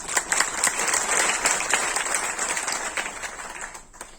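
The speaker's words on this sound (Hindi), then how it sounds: "मेरे स्वागत में आप लोगों ने जो घनघोर तालियां बजाई हैं," Thunderous applause from the audience at a Hindi kavi sammelan welcoming a poet, a dense steady wash of many hands clapping that gradually fades toward the end.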